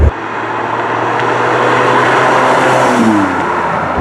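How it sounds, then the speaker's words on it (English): Ferrari 550 Maranello V12 engine under way on the road, a loud sustained roar with a brief pitch drop near the end as it shifts gear. "There's nothing like shifting gears in a V12 car."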